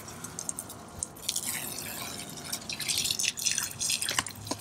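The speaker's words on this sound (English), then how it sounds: "There are some small leaks in this hose." Water dripping and trickling from a leaking RV dump hose, a faint run of irregular close-up drips and splashes, no talk.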